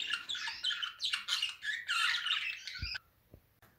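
Budgerigars squawk and chatter in a dense, continuous burst near the listener, then stop suddenly, leaving a couple of faint knocks.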